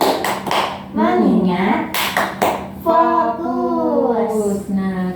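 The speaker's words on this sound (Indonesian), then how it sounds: "Tapi sebelum itu kita tepuk fokus" Elementary madrasah classroom doing the "tepuk fokus" clapping chant: sharp claps burst out in short rhythmic groups, mixed with children's and a teacher's voices chanting and talking throughout.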